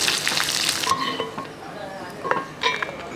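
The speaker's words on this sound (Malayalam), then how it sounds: "ഒരല്പം തേങ്ങാക്കൊത്ത് ചുമന്ന് വരുമ്പോഴത്തേക്കും ഒരല്പം വെളുത്തുള്ളി" Coconut slices fry in coconut oil in a kadai, a close, steady sizzle with occasional light scraping and clinks of a utensil against the pan.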